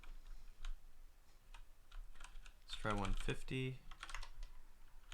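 Light, scattered keystrokes on a computer keyboard tapping along at a moderate pace, briefly interrupted by someone speaking a short phrase near the microphone.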